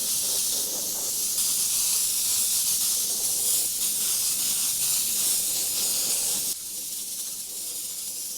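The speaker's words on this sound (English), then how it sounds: "Now adding that transparent yellow into the airbrush, I'm going to go ahead and coat over it." Airbrush spraying transparent yellow paint over a fiery tiger design, a continuous close, loud airy hiss that holds steady and then drops slightly in level near the end.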